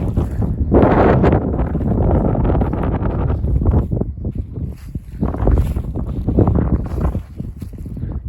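Heavy wind buffets the microphone in low, rumbling gusts that rise and fall throughout, loud and close, with no voices, out in a field during harrowing with an MTZ-892.2 tractor.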